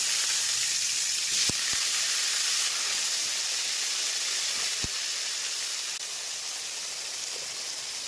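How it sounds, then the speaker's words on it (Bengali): Diced potatoes frying in oil in a wok with turmeric and salt, a broad steady hiss and sizzle held evenly throughout, with a couple of faint sharp clicks and no voices. "এইবারে ডুমো ডুমো করে থাকা আলুগুলো ভেজে নেব।"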